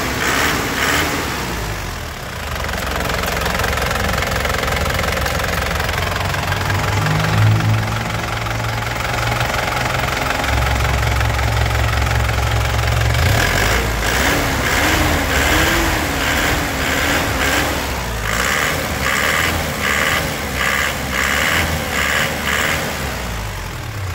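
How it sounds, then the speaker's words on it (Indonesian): A black 2008 Grand Touring Turbo engine running loud and close, its rough idle rising and falling as the throttle is blipped several times, with steady knocking vibration throughout. "Lur, kita gas-gas mesinnya lur ya"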